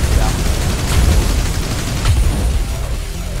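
Dense gunfire and booming explosions in the video game MOTHERGUNSHIP, a loud continuous barrage with bursts around one and two seconds.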